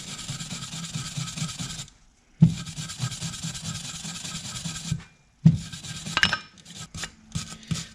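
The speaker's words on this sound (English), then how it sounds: "Just go ahead and rub it with our brush, just a soft metal brush" A soft metal brush scrubs loose rust off an automatic transmission part in two long bursts of rapid raspy strokes, each broken by a short pause and a light knock, then scattered scratches.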